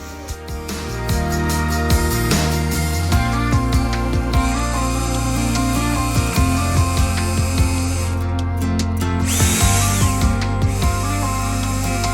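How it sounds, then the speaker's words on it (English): A power drill runs almost continuously, pre-drilling screw holes in hardwood, its motor whining and changing pitch as it bores in, loud and close with brief pauses. "So I'm going to pre-drill all the screws."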